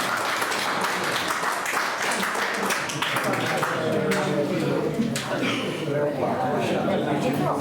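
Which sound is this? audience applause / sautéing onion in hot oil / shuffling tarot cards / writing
audience applause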